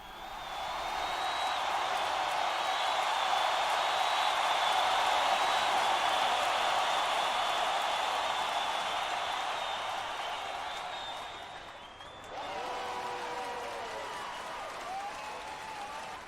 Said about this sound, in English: All I can hear are people cheering